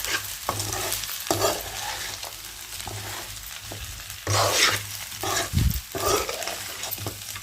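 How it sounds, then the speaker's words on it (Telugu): Spicy Andhra-style chicken fry with dried coconut powder stirred in a pan, with a steady sizzle under repeated scraping and stirring strokes close up. "కొబ్బరి పొడి వేసి ముక్కలన్నీ ఇలా కలుపుకున్నాము."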